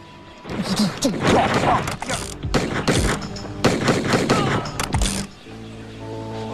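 Gunshots and impacts from the Lethal Enforcers 2 arcade shooter, set in the Wild West, fire in dense bursts with thuds and crashes over music, then a tonal game jingle closes out the passage.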